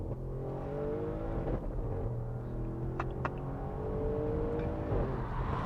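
A C7 Audi RS6 accelerating hard in dynamic drive mode, engine note rising steadily from inside the cabin as it pulls through gears, a loud continuous drone with shifts in pitch.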